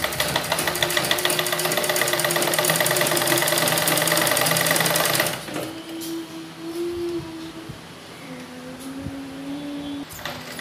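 A sewing machine runs fast and steady, stitching a lock stitch on a suit seam, its rapid even rattle loud and close for about five seconds before stopping, leaving only faint room noise and low hum.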